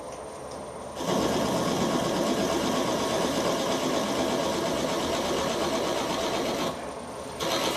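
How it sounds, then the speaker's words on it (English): Steady mechanical whirring and grinding of a machine cutting recycled plastic, starting abruptly after a second of quiet and running evenly for several seconds before stopping near the end, with no talking. "I'm quite impressed with the way that's machining."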